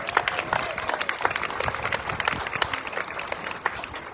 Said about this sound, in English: give Ed another big round of applause